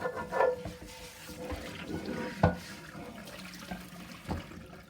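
Water runs and splashes in a sink as a seasoned cast iron skillet is rinsed, with a couple of hard knocks of the pan against the basin, close and without talk.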